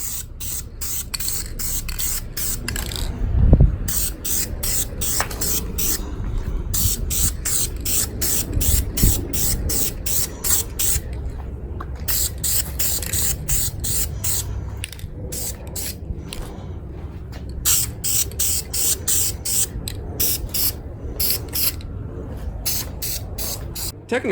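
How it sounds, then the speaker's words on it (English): A can of black spray paint hisses in long, repeated bursts onto car exhaust tips, broken by brief pauses, with a rattling, mechanical clatter underneath, steady and close throughout. "Make sure you shake it up real good and then start spraying."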